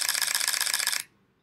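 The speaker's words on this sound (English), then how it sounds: "X-T4 is equipped with new ultra-fast focal plane shutter, which has the capacity to shoot up to 15 frames per second in burst mode." Fujifilm X-T4 mirrorless camera firing its ultra-fast focal plane shutter in burst mode: a rapid, even chatter of crisp clicks for about a second, close and alone, then it stops.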